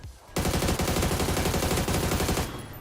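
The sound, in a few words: gunshots in the video game PUBG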